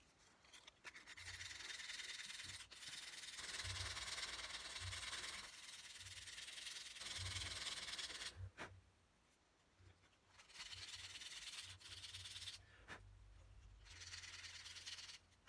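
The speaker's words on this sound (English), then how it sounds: "that's sanded down flat with the rest of the body." Flat sanding of a jerkbait lure body gives long, continuous abrasive rubbing strokes, close and fairly loud, broken by a few brief pauses and a couple of sharp clicks.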